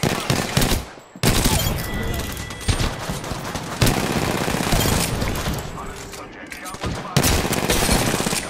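Rapid bursts of automatic gunshots in a video game, loud and close, with brief pauses between volleys and sharp individual cracks punctuating the sustained fire.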